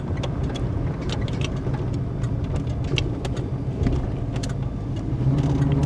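A 1990 Ford Mustang LX Fox body coupe engine pulls hard under acceleration, a steady loud rumbling drone heard from inside the car with shifts and road noise.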